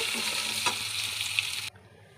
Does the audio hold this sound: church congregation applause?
no